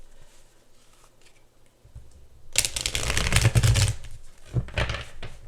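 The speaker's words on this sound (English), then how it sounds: "let me shuffle these cards real quick" A deck of tarot cards is shuffled with a dense flurry of papery riffles and slaps, loud and close, following a quiet stretch with faint rustling.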